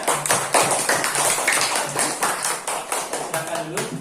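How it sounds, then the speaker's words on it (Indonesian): A classroom gives a round of applause for a student group: scattered hand claps from several people, fairly close and lively, mixed with some chatter over four seconds. "beri tepuk tangan untuk kelompok 3"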